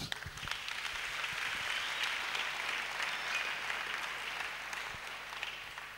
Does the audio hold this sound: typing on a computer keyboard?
no